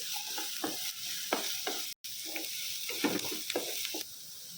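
Finely chopped onions and green chillies frying on high flame for cheese samosa filling, a steady sizzle with repeated scraping stirs of a spoon in the pan, close and fairly quiet, with a brief cut partway.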